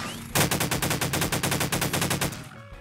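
Automatic weapon fire in Garry's Mod VR: one continuous, loud, rapid burst of evenly spaced shots lasting about two seconds, close and alone, cutting off abruptly.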